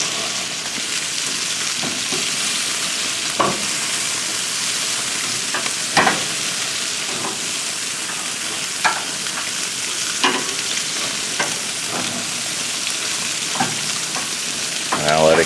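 Thin pork chops and sausages sizzle steadily as they fry in a pan, a dense close hiss broken by occasional scraping and clinking as they are turned and stirred, with no talking.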